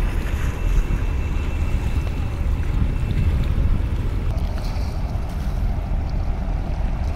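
Large passenger launch boats leaving a river ghat at Charmonai, Bangladesh: a steady, loud low rumble of engines and churning water mixed with heavy wind noise on the microphone, continuous throughout with no talking.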